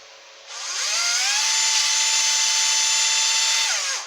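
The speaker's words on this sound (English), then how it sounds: "Try not to drill my fingers apart because they're very close to the actual drill." An electric drill bores into a case, its motor whining up from silence, holding a steady high-pitched drone for a few seconds, then winding down; close and loud with no talking.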